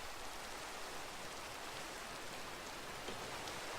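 Faint, even wash of rain in the Minecraft video game, a constant soft hiss with scattered drops and no talking.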